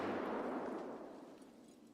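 A grenade goes off in World of Warcraft, a single muffled blast that booms at the start and then fades into a dull rumble, fairly quiet and with no speech.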